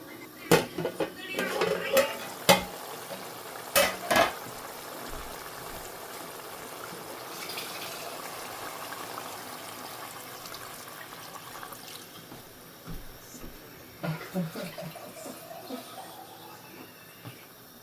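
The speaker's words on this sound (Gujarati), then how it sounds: "હવે આપણે પાણી એડ કરી દેવાનું છે" Utensils clank against a pan a few times, then a steady hiss and bubbling as water is added to fish curry in a hot pan, with more clinks near the end.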